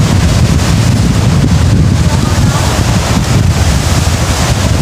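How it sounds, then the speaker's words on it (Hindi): Water gushing out of an outlet outdoors during an Eid outing, a loud, constant rushing roar mixed with heavy wind buffeting the microphone, with no speech heard. "यहाँ से पानी निकल रहा है।"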